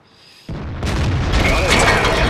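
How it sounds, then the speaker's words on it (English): In World of Tanks, an artillery shell strikes the player's tank with a sudden loud boom that swells into a sustained rumbling blast and ringing debris. "that was artillery."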